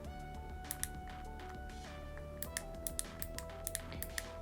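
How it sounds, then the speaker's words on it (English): Small sharp clicks from a plastic fidget cube tap out in an irregular run, quiet and close, sitting over a steady background of music. "Makes a nice clicking noise."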